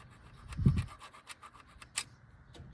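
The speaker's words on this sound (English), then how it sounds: "take a skinny file, piece of sandpaper, a screwdriver, scrub in there" Short scratchy rasping strokes of a skinny file or sandpaper scrubbing the starter contacts on a 1967 Dodge Coronet 500, close and fairly faint, with one duller thump early on.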